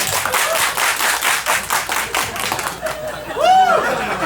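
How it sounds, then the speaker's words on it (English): Audience at a stand-up comedy special clapping in a quick steady rhythm with crowd chatter, followed by a brief whistle-like tone near the end. "Everybody clap your hands."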